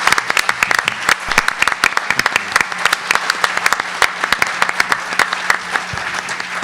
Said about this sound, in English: maybe another round of applause for the panelists as you think of your questions